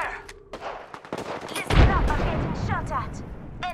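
Gunfire and explosive blasts in Apex Legends, with scattered shots and a heavy boom that rolls into a loud, rumbling barrage, plus metallic chirps and clatter from a multiplayer firefight.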